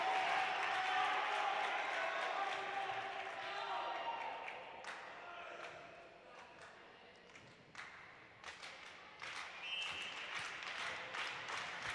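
A gym crowd at a varsity boys volleyball match gives a slow clap, scattered claps and thuds ringing in a large hall, fading then picking up, with an announcer talking over it.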